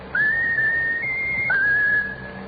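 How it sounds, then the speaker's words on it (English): A pet bird whistles a tune in clear, pure sustained notes: three long tones, each stepping to a slightly different pitch, with no talk over them. "That's a very bright bird. Whistle your favorite tune."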